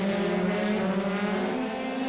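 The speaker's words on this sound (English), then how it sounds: "Basso is very close to the back of Kemp's car as they come down the straight at the start of lap 3." Formula 3 race cars running down a straight in an iRacing sim race, a steady high engine whine with rising harmonic tones, loud and continuous, with a second car close behind and no talking.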